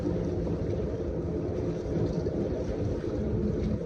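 A boat motor drones steadily on the water during a ride in China, a continuous low rumble mixed with wind buffeting and splashing waves, loud and close throughout.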